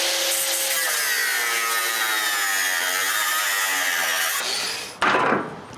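A power tool saws through rusted bolts on a trailer, a loud, sustained, close grinding shriek that drops off near the end, then a sharp clank and brief rough scraping.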